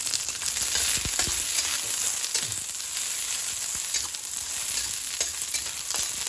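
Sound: onions frying in a pan

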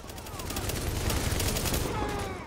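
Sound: video game gunfire and explosions

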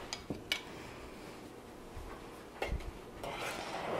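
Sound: stirring no-bake chocolate oatmeal cookie mixture in a pot

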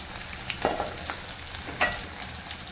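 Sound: onions sautéing in pan for idli sambar

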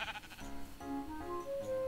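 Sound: sheep bleating in Minecraft video game

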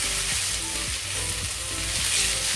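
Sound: frying ingredients for Singaporean rice

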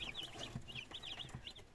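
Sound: young chicks peeping

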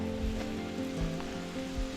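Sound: rain falling in a forest

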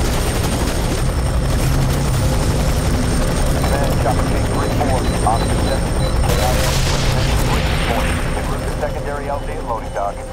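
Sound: helicopter flying in video game F.E.A.R. 3

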